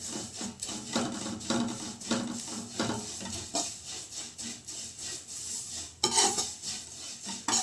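Vermicelli being roasted in a pan for a sweet, stirred with repeated scraping strokes that come in a steady rhythm at close range.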